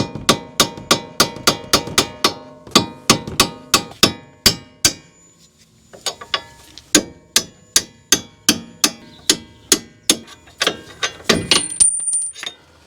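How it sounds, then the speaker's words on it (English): A brass punch taps out bolts on a Mazda 3 front strut assembly during a strut replacement, giving a rapid run of sharp metallic hammer strikes, close and loud, that pause briefly and then resume at a steady rhythm. "I'm going to use a little brass punch set here that I got from Mayhew Tools, and we'll just see if we can tap these out"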